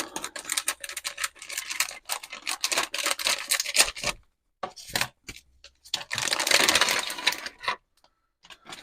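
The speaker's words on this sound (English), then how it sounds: "Okay, so we'll get these cut open." Plastic parts bags for a Star Wars Millennium Falcon model being cut open with scissors, close crinkling and rustling bursts broken by short silences.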